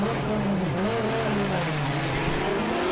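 A drift car in a Formula DRIFT Japan competition at Ebisu roars continuously, its engine pitch dipping and climbing as it revs, with a sustained tire squeal layered over the loud, close engine noise.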